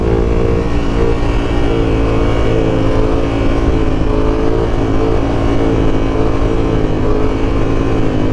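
A Yamaha R7 motorcycle engine drones steadily while riding in third gear, a loud, close, continuous hum that rises and falls only slightly in pitch.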